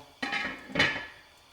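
A metal lid goes onto a qozon cooking pot. Two quick metallic clanks sound close by, the second slightly louder, each followed by a short ringing decay.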